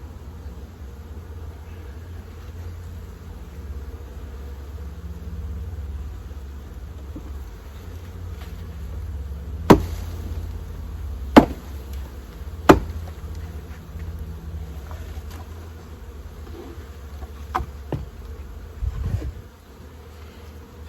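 Honeybees hum steadily at an opened beehive being prepared for spring, a low continuous buzz close by, broken by a few sharp knocks and clicks from hive tools and frames.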